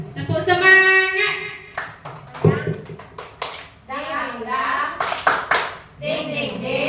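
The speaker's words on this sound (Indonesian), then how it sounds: "Tepuk semangat." A group of teachers and parents at a primary school gathering does a rhythmic cheer clap, short bursts of patterned hand claps mixed with voices chanting and talking over them.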